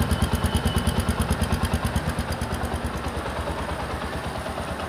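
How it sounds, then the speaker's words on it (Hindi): A 2022 Bajaj Platina 110 motorcycle idles up close with a fast, even putter of regular pulses, loud and steady throughout with no voices. "इंजन साउंड आप सुन सकते हैं।"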